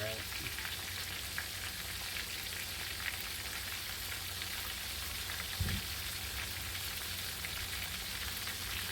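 Steady crackling sizzle of oil at about 300 degrees frying chicken, continuous and close, with dense popping like light rain and no talking.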